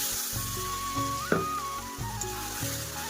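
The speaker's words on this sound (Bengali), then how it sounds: "অল্প একটু জল দিয়ে দেবো এখন" Spice paste sizzles in a wok as a little water is added, a soft continuous hiss with a brief splash and crackle partway through, close and fairly quiet, with no one talking.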